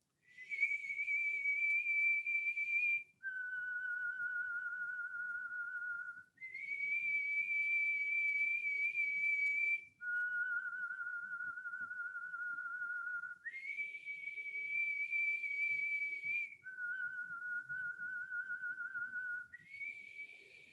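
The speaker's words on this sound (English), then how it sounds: "And we begin to whistle." A person whistling during a kundalini yoga breathing exercise, long sustained notes alternating between a higher and a lower pitch in a slow, even cycle, soft and alone with no talking.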